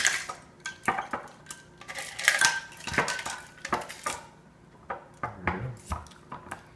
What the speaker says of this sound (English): then we're going to use the Boston shaker and do its thing